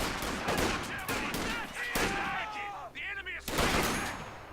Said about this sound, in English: What you can see right now is that the guys are firing at the grenadier.